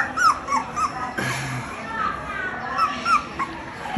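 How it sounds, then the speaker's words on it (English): Puppies give short high yips and whimpers, several rapid bursts spread across the moment, close by, with people talking over them. "Yeah, he barking."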